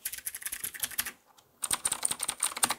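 Rapid typing on a budget mechanical keyboard with blue switches, sharp clicky keystrokes in quick bursts, close and crisp, with a brief pause midway.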